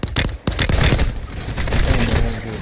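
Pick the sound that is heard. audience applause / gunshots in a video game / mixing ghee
gunshots in a video game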